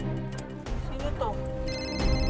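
A phone rings with an incoming call in a tense domestic drama scene, its repeating electronic ring tone heard close over underlying music and background sounds.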